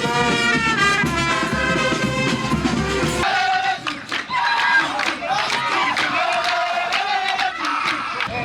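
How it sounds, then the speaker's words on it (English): Soldiers at a peace walk sing cheering songs together in a loud group chant with shouts and crowd voices, the singing shifting in tone partway through and staying close and energetic. "The musical interlude and their cheering songs made the exercise worth the while."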